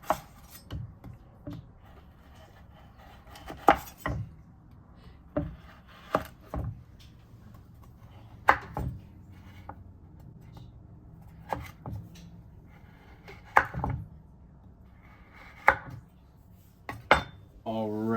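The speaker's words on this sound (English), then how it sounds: "I'm also gonna slice up the bouillon cubes to make them dissolve faster" A knife slices through bouillon cubes against a hard surface, giving sharp, irregular clacks and scrapes spaced every second or two, with a faint low background hum between the strikes.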